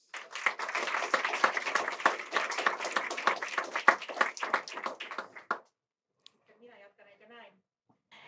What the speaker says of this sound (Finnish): Hyvä yleisö, toivotetaan lämpimästi tervetulleeksi Kati Kaskeala.